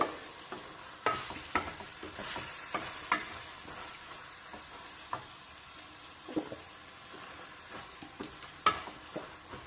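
Bitter gourd with chili powder stirred in a pan, a quiet background sizzle broken by repeated scraping and clinking strokes of a spoon at an irregular rhythm.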